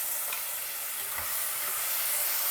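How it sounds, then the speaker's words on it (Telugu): Ground tomato paste fries in oil with dry spices for one-pot rajma masala, giving a soft, steady sizzle and hiss close by that builds slightly toward the end, with no talking. "కలుపుతూ కొద్దిగా నూనె తేలే వరకు, టమాటా పచ్చివాసన పోయే వరకు వేయించుకోవాలి"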